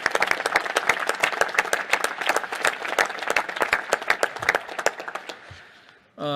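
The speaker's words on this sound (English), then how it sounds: "How about a round of applause for this whole panel?" An audience at a National Space Council meeting at the Udvar-Hazy Center claps for a panel, a dense burst of many hands applauding steadily, then thinning and fading out near the end.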